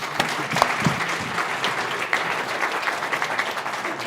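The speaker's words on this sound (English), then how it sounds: "Let's give her a round of applause." Conference audience applauding after a session's closing presentation, a steady wash of many hands clapping for about four seconds, moderately loud, with no speech over it.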